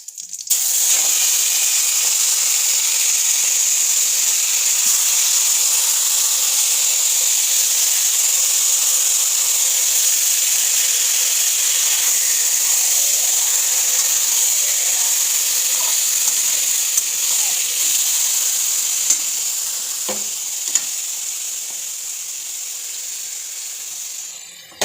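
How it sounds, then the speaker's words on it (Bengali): Marinated mutton dropped into a hot pan of whole spices (cloves, cardamom, cinnamon, bay leaf) sizzling, a loud, even, continuous hiss from start to finish with a few faint clinks. "এবারে ম্যারিনেট করা মাংসটা দিয়ে দেবো।"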